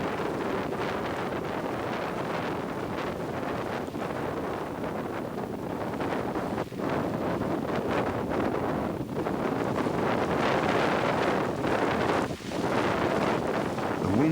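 Strong wind batters a Mount Everest camp of collapsed tents, roaring continuously and buffeting the microphone in loud gusts throughout, with no voices.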